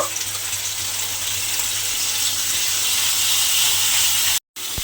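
Spice masala sizzling and frying in hot oil for a vegetarian potato and pointed gourd curry, a steady loud hiss throughout with a brief cut near the end.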